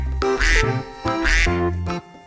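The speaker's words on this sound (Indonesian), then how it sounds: "kita menemukan hewan mainan bebek" A duck quacks loudly and close up, three harsh nasal calls in quick succession with brief gaps, standing alone in a children's toy-animal setting.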